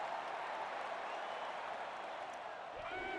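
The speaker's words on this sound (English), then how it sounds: "The crowd is really letting them hear it." Stadium crowd cheering in the NCAA Football 09 video game, a steady loud roar of many voices sustained without break through the whole moment.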